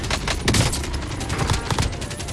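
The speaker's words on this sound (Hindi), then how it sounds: "ये स्नाइपर सर अचानक से फायर पड़ती है" Rapid automatic gunfire crackles in a Call of Duty Warzone Plunder match, a dense run of shots lasting a couple of seconds with no voices.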